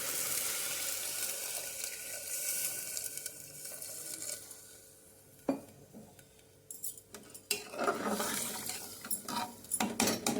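Water is poured into a cooking pot while making baby food, a steady rushing flow that eases off midway, followed by sharper clatter and splashing from the pot and utensils near the end.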